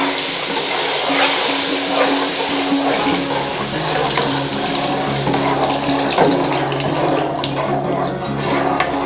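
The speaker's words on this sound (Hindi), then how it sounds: "अब मैं इसमें 1 लीटर दूध डाल दूंगी।" One litre of milk pours steadily into roasted semolina in a pan, a continuous loud liquid rush with a gurgling, splashy texture that runs unbroken throughout.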